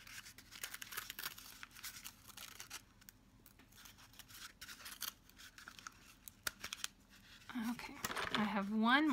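Scissors snip through paper at close range while a teen craft kit phone holder is being made, a quick run of crisp cuts with short pauses, and a voice begins near the end.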